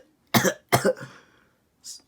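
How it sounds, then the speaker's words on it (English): Two sharp coughs in quick succession, close and moderately loud, followed by a brief trailing breath and a soft short exhale after a pause. "Naruto began to cough"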